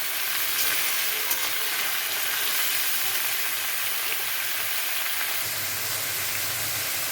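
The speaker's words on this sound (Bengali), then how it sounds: "এই লাউগুলো কেটে রেখেছিলাম সেটাকে ভালো করে ভেজে নেব" Cut bottle gourd pieces fry in hot oil with white cumin seeds, giving a dense, even, loud hiss that holds unbroken throughout.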